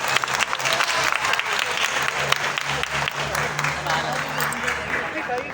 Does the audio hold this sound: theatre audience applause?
yes